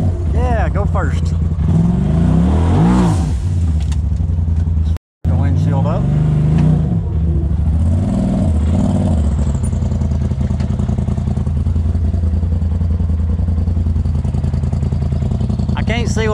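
A car's exhaust rumbles and revs off-road on a trail, a loud, close engine note rising and falling, with people talking over it.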